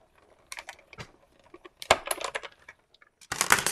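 A Spellbinders Platinum 6 die cutting machine cuts tags in a few short bursts of clicking, crunching and rattling, close and fairly faint, separated by near silence.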